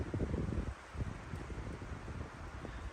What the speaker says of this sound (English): I hope that wind settles down come this evening.